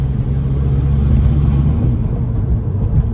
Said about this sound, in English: it completely transforms the sound of the engine with that turbo flutter that comes in